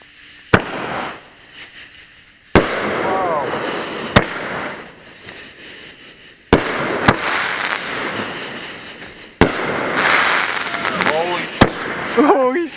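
A Robos Hot firework cake fires outdoors: about five loud, sharp launches, each followed by crackling bursts and whistling tails, with people talking between shots.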